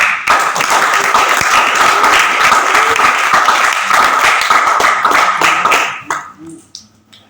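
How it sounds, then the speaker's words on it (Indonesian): An audience at a church youth retreat session in Medan claps loudly and steadily for about six seconds, then the applause thins out and fades to a few scattered claps. "Kita beri tepuk tangan."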